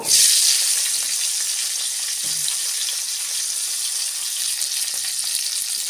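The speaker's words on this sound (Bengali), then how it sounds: "এবার ওই তেলে ফুলকপি দিয়ে দেব।" Cauliflower dropped into hot oil after potatoes were fried, a loud burst of sizzling at first that settles into a steady, even crackle and hiss throughout, with no voices.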